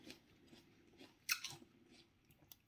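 Crisp crunching bites into a crunchy, juicy apple, with one loud sharp crunch in the middle and softer chewing before and after, close up and otherwise quiet.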